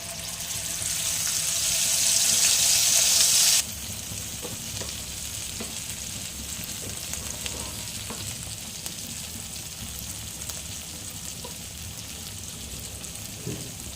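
Gravy poured into a sizzling tempering of bay leaf, cloves and cinnamon for matar paneer, a loud hiss bursting up at first, then settling after a few seconds into a steady, quieter frying sizzle with occasional stirring clinks.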